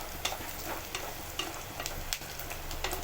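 Meal maker soy chunks being sautéed in a pan for biryani, with a steady close sizzle and scattered scraping clicks of stirring throughout.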